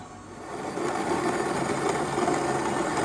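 A grain mill grinds malted barley for a sparkling ale brew day, giving a steady, loud mechanical whir with a dense crunching texture that swells slightly after the start and holds for about three seconds.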